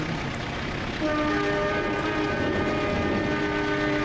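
Train horn sounding in the railway simulator game Trainz, a loud sustained multi-tone blast over steady rumbling train noise, growing fuller after the first second.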